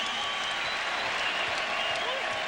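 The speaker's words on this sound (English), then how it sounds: "Patrick Ewing hears it from the crowd as he is replaced." A basketball arena crowd at a 1994 Pacers vs Knicks Eastern Conference Finals game reacts as Patrick Ewing is replaced, a steady wash of applause and crowd noise under a commentator's voice.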